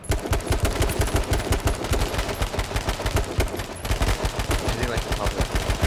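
Rapid bursts of video game gunfire from a battle royale–style firefight, loud and dense with repeated automatic shots throughout, while players talk over it.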